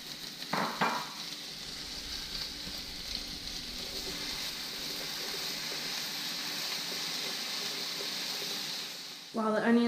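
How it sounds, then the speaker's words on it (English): Onions and garlic frying in a pan give a steady, even sizzle, with brief clatters of stirring near the start and at the very end. "While the onions and garlic are cooking,"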